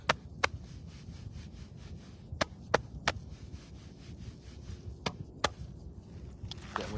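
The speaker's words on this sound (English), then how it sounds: "And then we tap." Hands tap on a leg during a lymphatic massage, giving sharp, sparse slaps in irregular pairs over a soft rubbing background, close and fairly quiet.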